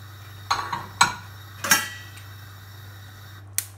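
Pasta sheets for a lasagna set down on a tray or pan, giving three or four close clattering knocks and scrapes of dish and utensil against a steady low hum, with a final sharp tap near the end.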